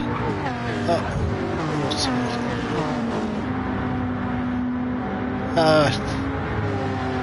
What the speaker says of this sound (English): Putting the power down, a V8 and a turbocharged 6-cylinder straight 6.